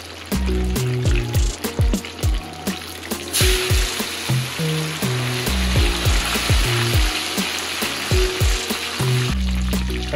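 Meat browning in a pan with sea salt, rosemary, cilantro and cumin nearby, giving a steady, close sizzle that fills the clip with bursts of crackle over a low background hum.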